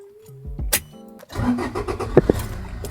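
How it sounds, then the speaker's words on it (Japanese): A car engine cranks and catches partway through, settling into a rough, loud running rumble after a quieter stretch of faint tones and small knocks, with no talking. "じゃあまずねエンジンかけてみます"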